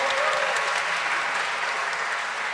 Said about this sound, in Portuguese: eu quero pedir uma salva de palmas para os nossos voluntários